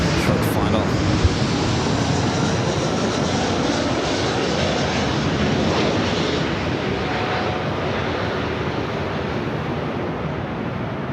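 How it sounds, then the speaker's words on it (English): Airliner arriving from London Heathrow on short final to land at LAX, a loud steady jet engine roar with rushing air throughout, with faint radio voices underneath. "Flight coming in from London Heathrow"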